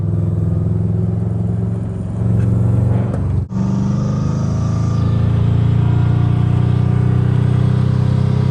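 A Subaru WRX with a loud, faulty exhaust drones in third gear at about 2,500 RPM. The rumble is steady and close, with a brief dip partway through before it resumes. No one speaks.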